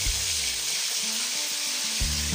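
Chicken pieces fry in hot oil for a yellow spice Indonesian dish, giving a steady crackling sizzle throughout, with faint clinks of a utensil and no talking.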